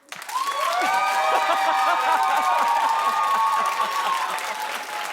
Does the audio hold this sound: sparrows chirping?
no